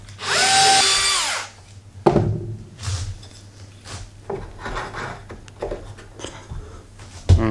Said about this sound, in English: So I'll drill these out and then connect everything up.